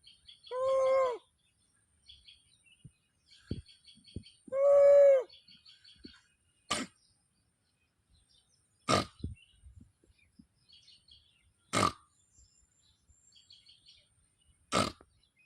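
A voice imitates the call of a large monkey, with two loud hooting bursts separated by sharp clicks and faint scattered sounds in between.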